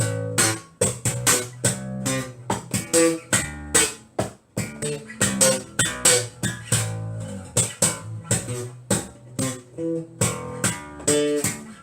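Punchy slapped bass guitar with sharp popped notes, played in a quick funky rhythm for several seconds, loud and close with no talking.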